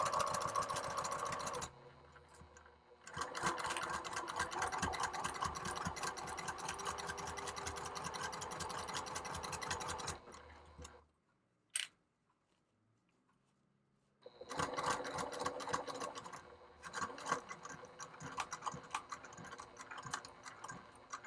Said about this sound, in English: using 5/8 of an inch seam allowance, I'm going to stitch down the right hand edge.